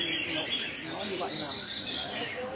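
Songbirds chirp and trill at a bird-singing competition, their calls overlapping in a busy stream while people talk over them throughout.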